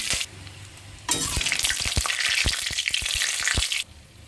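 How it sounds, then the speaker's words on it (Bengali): Cumin, cardamom, cinnamon, bay leaf and dried chili hitting hot oil in a pan, a sudden loud sizzle that holds steady for a few seconds with stirring clacks over it, then cuts back to quiet. "জিরে ফোড়ন দিয়ে দিলাম এলাচ দারচিনি তেজপাতা শুকনো লঙ্কা ফোড়ন দিয়ে দিলাম"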